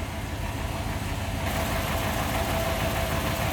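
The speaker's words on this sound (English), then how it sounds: "See the engine running nice and smooth" A 1954 Buick Special's nailhead V8 engine idles steadily with a low, even rumble, close by and continuous throughout, with no voices.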